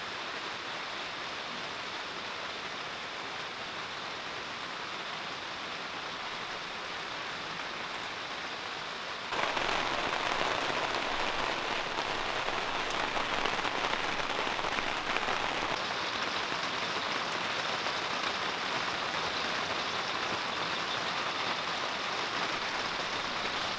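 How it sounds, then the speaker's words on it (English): Steady rain pours over a mountain campsite for the whole stretch, a dense, even hiss that swells noticeably louder partway through and stays heavy, with no voices. "Spent the day working as it rained all day."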